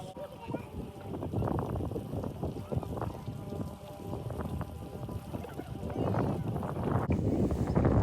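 Steady wind rumbles and buffets against the microphone throughout, loud and gusty, under faint background activity, at Yellowstone National Park.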